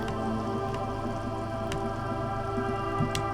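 Rain falls steadily in the video game Disco Elysium, a continuous patter with occasional louder drips over a sustained low ambient tone, with no speech.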